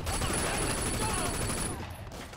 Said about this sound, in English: They're shooting Naz